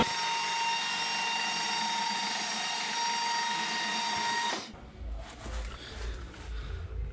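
A steady high-pitched whine of a workshop vehicle hoist motor runs loud and continuous for several seconds, then cuts off abruptly, leaving low rumbling and faint clanks behind.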